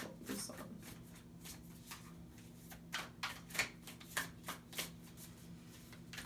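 Tarot cards are shuffled by hand, a soft, faint series of riffling flicks and taps that come in a loose rhythm, close and quiet.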